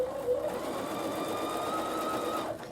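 A Bernina sewing machine with a number 10 foot edge stitches braid onto hi-vis fabric, running in one steady, close whirring hum that holds for a few seconds before stopping.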